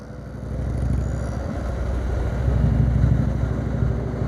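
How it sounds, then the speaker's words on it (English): An Indian brand motorcycle rides along a Gujarat highway, its engine giving a steady, close rumble mixed with wind and road noise that rises slightly toward the end. "The Indian brand bike on the road."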